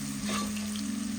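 Onions deep frying in hot oil for a biryani, a brief close burst of bubbling sizzle with a soft stir, under a steady low background hum.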